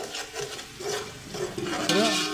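Close, soft scraping and squelching as besan vadi batter, made with gram flour and yogurt, is stirred and mixed in a bowl, with quick irregular strokes.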